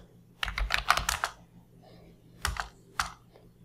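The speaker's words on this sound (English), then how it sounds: "Now type any commands." Commands typed on a computer keyboard at a Windows command prompt: a quick burst of keystrokes, a pause, then a few more isolated taps, close and fairly crisp with no talking.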